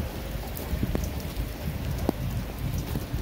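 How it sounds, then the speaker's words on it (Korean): Heavy monsoon-season rain pours down steadily in a dense, continuous hiss of drops, with a few sharper spatters breaking through, on an August day outdoors while walking. "여전히 장마비 같은 이런 비가 계속해서 쏟아붓네요"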